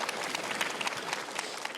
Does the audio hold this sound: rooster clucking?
no